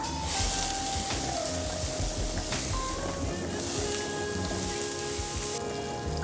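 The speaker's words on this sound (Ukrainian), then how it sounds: "Зараз будемо смажити." Steady crackling sizzle of sliced mushrooms frying in oil, continuous and close, with faint kitchen clatter and a voice briefly audible in the background.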